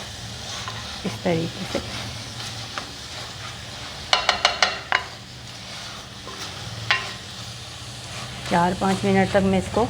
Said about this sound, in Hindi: इसको अच्छे से आप हल्के हल्के मैश करते जाए और भूनते जाए